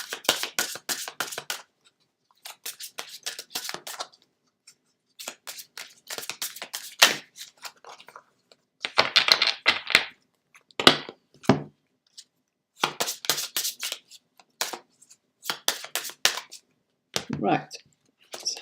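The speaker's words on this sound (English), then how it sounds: "Linta, I am shuffling for you." Tarot cards being shuffled by hand during a live reading, crisp riffling and slapping bursts in short irregular bouts separated by silences, close and fairly quiet.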